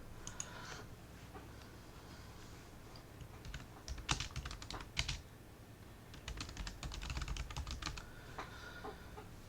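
Fingers type a questionnaire title on a computer keyboard in two quick bursts of clicking keys, close and fairly quiet over a low background hum, with no talking.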